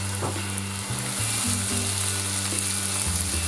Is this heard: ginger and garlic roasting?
yes